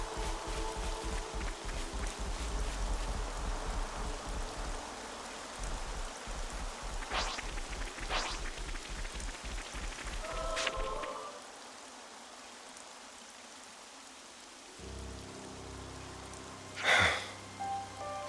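Rain falls in the video game Xenoblade Chronicles 3, a dense steady patter on surfaces that later drops away, leaving quieter ambience and a few brief game tones near the end.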